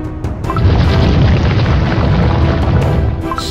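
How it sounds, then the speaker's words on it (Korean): A volcano about to erupt in the Cookie Run Kingdom video game, heard as a loud, continuous deep rumbling boom that swells and holds steadily, with a few sharp cracks at the edges. "이번엔 진짜 지진이야. 화산이 폭발하려고 해!"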